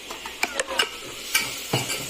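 Ground masala being stirred into a frying south Indian mushroom gravy gives a few separate scraping stir strokes against the pan over a faint sizzle, close and moderately quiet.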